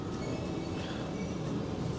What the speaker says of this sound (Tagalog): paparating na yung tren